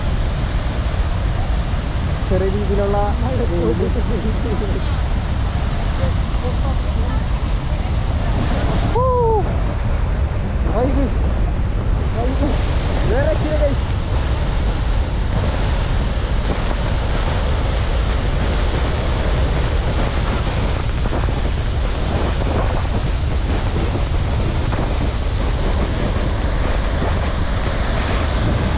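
Athirappilly waterfall in Kerala, swollen by monsoon rain, roars in a loud, unbroken wall of rushing water, with people briefly talking over it early on.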